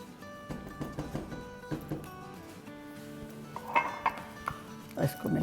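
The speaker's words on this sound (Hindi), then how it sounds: "इसको मिला लेंगे।" Kheer (rice pudding) with added cream is stirred in a pot, with sparse clinks and taps of a spoon against metal that grow a little louder near the end over a faint background hum.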